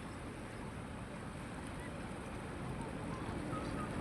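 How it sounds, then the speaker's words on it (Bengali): A ship passes along a river while waves wash toward the bank, giving a steady broad rumble and watery wash with faint wind, fairly close and continuous throughout. "ওই চলে যাচ্ছে জাহাজটা।"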